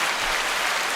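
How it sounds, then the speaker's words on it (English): Brief burst of light applause from a small group, a steady broadband patter of clapping with no voices over it. "A little applause."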